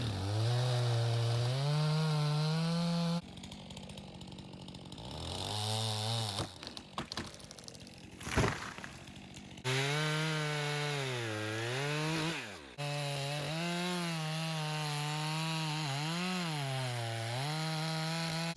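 A chainsaw runs loud and close while felling a tree with a plunge cut worked back toward a back strap, its engine holding a steady drone, dipping and revving as the bar bites through the wood, with no talk.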